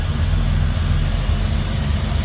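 A 1985 Buick Grand National's 3.8 liter turbocharged V6 with new exhaust, cam and lifters idles steadily and close, a deep even rumble with no talk over it.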